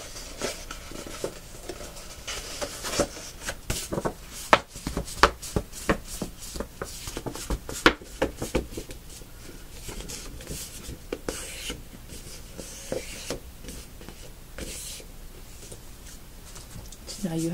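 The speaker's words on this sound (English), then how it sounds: "So just keep creasing really well." Folded paper for a homemade sticker book is creased firmly by hand, giving soft irregular scraping and rubbing strokes with scattered light taps, close and fairly quiet, continuing steadily throughout.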